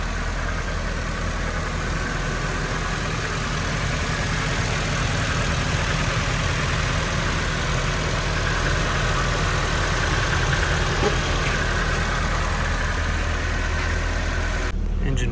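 A 1999 Nissan Silvia S15 Spec-R with about 54,000 km idles steadily, a constant low engine hum with a faint rhythmic pulse, close by and unbroken for the whole stretch, with no one talking.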